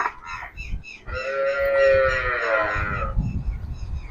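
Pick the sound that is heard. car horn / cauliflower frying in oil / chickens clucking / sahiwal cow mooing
sahiwal cow mooing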